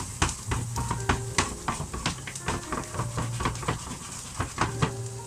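Onions fry in a pan for a mince beef and onion pie filling: a steady sizzle under repeated scraping stirs and clatter, close and moderately loud, with no talking.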